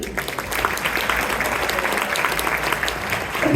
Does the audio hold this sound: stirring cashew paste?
no